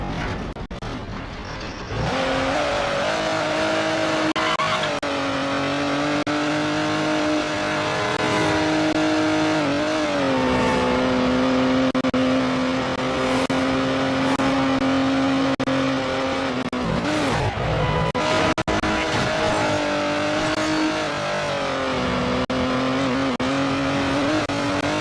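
A Pagani Zonda in the Midnight Club 3 DUB Edition Remix racing game drives with a loud, sustained engine tone that rises and falls through gear changes, with brief tire noise, over about twenty-five seconds.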